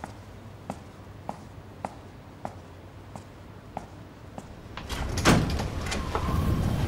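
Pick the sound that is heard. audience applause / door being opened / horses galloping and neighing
door being opened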